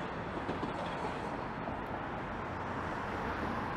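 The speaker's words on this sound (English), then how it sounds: "we have a northbound subway sighting." A Toronto subway train heading northbound under Yonge Street, heard as a steady, broad rumble that holds evenly throughout without distinct clicks or breaks.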